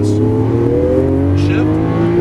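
A 2012 Lamborghini Aventador powers out of a corner on a Las Vegas track, its engine note climbing loud and close in a brief rising roar, with a voice talking over it.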